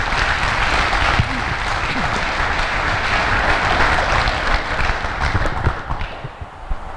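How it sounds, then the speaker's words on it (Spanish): Dense, sustained applause from a large crowd at a school talk fills the space evenly, tapering slightly toward the end. "Vamos a recibir a Edgar y a Elvita con un abrazo cariñoso y un aplauso cariñoso."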